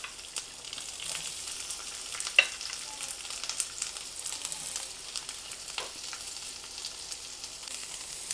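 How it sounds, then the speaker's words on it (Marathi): Chopped onion frying in a pan on a home stove, a soft steady sizzle running through with a few small crackles and pops, fairly quiet and close, no talking. "तर आपण लगेच कांदा परतून घेऊया थोडासा."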